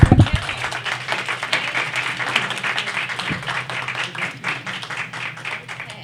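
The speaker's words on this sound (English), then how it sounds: "Let's give a round of applause to our panel." A conference audience applauds a panel at a concussion and brain injury recovery event, with steady mid-loud clapping sustained across the whole stretch and no talk over it.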